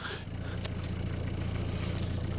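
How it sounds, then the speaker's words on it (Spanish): A car's steady low engine drone and road hum fill the background continuously, with no talking. "se escucha el ruido de un auto, porque yo estaba en un auto grabando la nota de voz."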